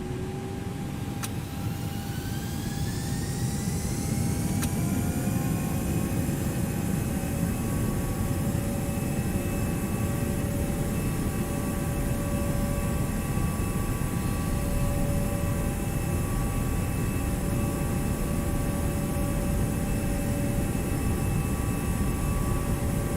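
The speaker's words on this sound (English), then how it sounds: "Delta 2058, RNAV football, runway 27 right, clear for takeoff" Jet airliner engines spool up and roar steadily through a takeoff roll in the X-Plane 11 flight simulator, a loud continuous rumble with rising whine tones that hold steady without any speech.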